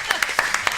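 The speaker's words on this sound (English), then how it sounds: "give her a round of applause" A handful of people clap in a loose, uneven rhythm at a Chardonnay wine seminar, with voices talking underneath the applause.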